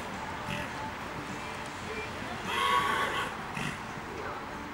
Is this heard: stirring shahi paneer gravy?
no